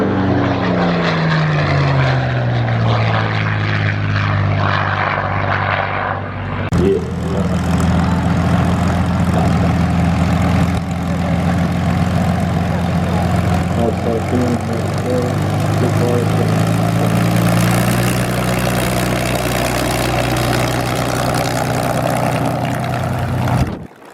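Twin-engine propeller aircraft at the Wings Over Wairarapa airshow, a loud droning engine roar whose pitch sweeps as the plane passes, then a sustained steady propeller hum close by.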